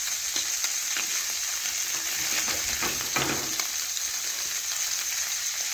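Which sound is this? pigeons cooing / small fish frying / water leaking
small fish frying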